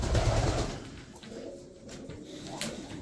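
Uzbek pigeons coo softly after feeding, low murmuring calls under a steady background hum, with a few faint knocks and rustles nearby.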